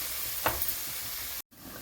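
Quinoa rice for amla pulihora dry-roasts in a pan, giving a steady broadband sizzle and hiss with a brief stirring scrape near the start and a momentary cut near the end, no voices.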